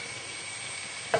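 A sauce stirred in a hot pan for a poached salmon tagliatelle, heard as a steady close sizzle and hiss with a brief clink of a utensil at the very end and no talking.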